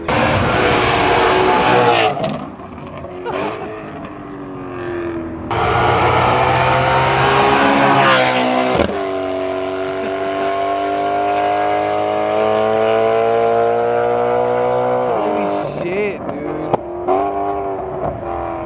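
A BMW E92 M3 with a very loud aftermarket exhaust roars and revs close by, shifting gears with sharp pops and a sustained rasping exhaust note as it drives past.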